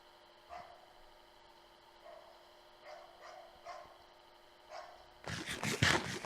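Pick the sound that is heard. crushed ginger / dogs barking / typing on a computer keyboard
dogs barking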